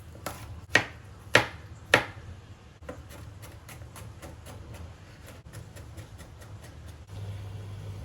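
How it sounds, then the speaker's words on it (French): Knife chopping garlic finely on a board: a few sharp, distinct chops up front, then a quicker run of lighter cutting taps, close and fairly quiet. "L'ail est maintenant coupé finement."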